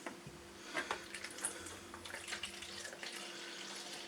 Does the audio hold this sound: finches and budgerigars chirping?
no